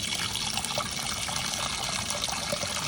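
A National NA9450PN washing machine fills with water for its second rinse, giving a steady, continuous trickling and rushing of water that stays even and fairly close throughout.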